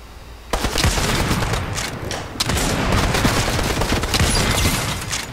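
Rapid gunfire in the video game Fortnite, dense bursts of shots and booms that start abruptly and continue loud and close with little pause.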